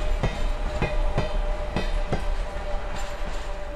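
Cartoon train wagons roll along pulled by a tractor, giving a steady clickety-clack of wheels over rail joints, evenly spaced clicks over a low rumbling drone.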